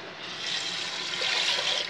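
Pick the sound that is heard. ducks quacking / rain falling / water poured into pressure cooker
water poured into pressure cooker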